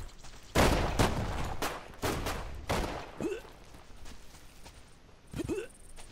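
Several sharp, loud gunshots crack in quick succession in the video game Deadside, then a couple of quieter shots follow after short gaps.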